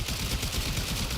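A Stug gun firing in the video game Warframe, a dense, continuous burst of rapid rattling shots that stays loud and even throughout, with no voices.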